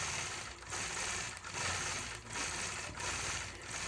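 A sewing machine stitches straight, closely spaced matchstick quilting lines on a patchwork block: a fast, steady mechanical whirr, close and alone, broken by brief pauses roughly every 0.8 seconds.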